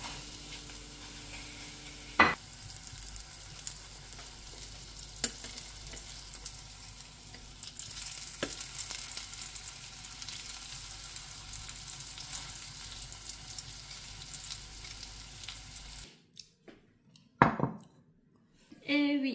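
Food cooks in a pan with a steady low sizzle, broken by occasional sharp clinks of a utensil against the pan, before the hiss cuts off and a few more knocks follow.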